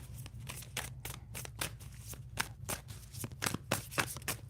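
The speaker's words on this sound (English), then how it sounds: "2 more shuffles." A deck of tarot cards is shuffled by hand in quick, irregular riffling bursts and soft slaps, close and quiet, with no talking.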